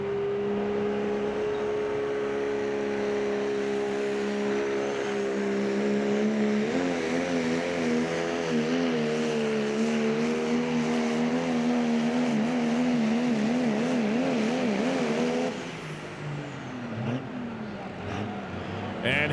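The Chapter 11 pro stock diesel pulling truck strains loud and steady down the sled track, its engine note wavering and rising before cutting off near the end, with an announcer talking over it.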